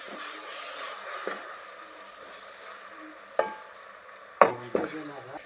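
Ginger garlic paste sizzling in a frying pan, a soft steady hiss under scattered scrapes and knocks of a spoon stirring, with a few louder clatters near the end.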